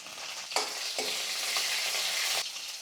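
Garlic with green and red chilies fry in hot oil for sambar, a bright continuous sizzle close by, punctuated by a few stirring scrapes as the pieces go in.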